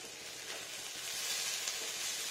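Spinach frying in white oil in a pan gives a soft, continuous sizzling hiss, fairly quiet and steady, rising slightly toward the end of the short stretch, without any voices.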